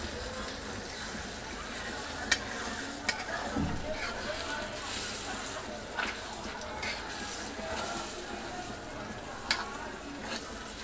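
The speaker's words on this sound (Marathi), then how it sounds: "आता हे थोडं मिक्स करते. त्याच्यामध्ये एकजीव करायचं." Masala being stirred and mixed in a hot pan, with a steady sizzle of frying and occasional scraping clicks of the spoon, heard fairly close and at a low, even level throughout.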